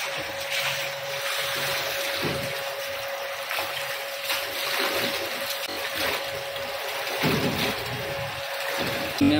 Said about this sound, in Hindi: इसका पानी निकाल देते हैं मशीन में डाल के।